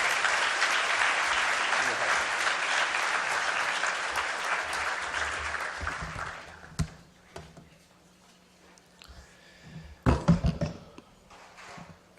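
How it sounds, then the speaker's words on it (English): Audience applause for Imam Siraj Wahhaj at a banquet, a dense sustained clapping that fills the room for about six seconds, then dies away into scattered claps with a brief burst near the end. "So once again, a warm applause to our dear friend,"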